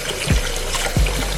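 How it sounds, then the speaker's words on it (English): Hands slosh rice grains around in a bowl of rinsing water, with two short swishing surges in quick succession over a close, steady watery background. "you're gonna keep washing it until this water is clear"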